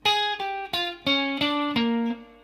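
Electric guitar plays a song intro's descending Mixolydian run, six clearly picked notes stepping down at a moderate, slightly slowed pace, bright and close with a light effect, no voices.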